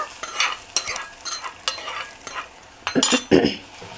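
Mustard seeds and curry leaves fry in hot oil while a spoon stirs the pan, giving loud scraping strokes in an uneven rhythm with crackling sizzle bursts toward the end, close and clear with no talk.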